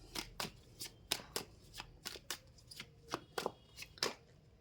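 Tarot cards are shuffled by hand in a series of quick, crisp riffles and taps, close and quiet, repeating at an uneven rhythm in an otherwise still room.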